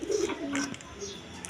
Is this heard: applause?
no